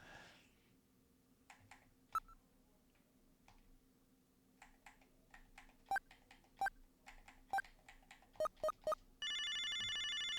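A video phone in the Sega CD game Snatcher dials a number with a run of sharp electronic beeps that speed into a quick cluster, then a steady ringing tone starts at the end; no one speaks.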